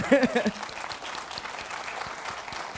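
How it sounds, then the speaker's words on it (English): An audience at a token industry conference bursts into applause after a token sale announcement, with a short burst of voices at the start and then steady, moderately loud clapping that keeps going. "Also give some of those claps to the team."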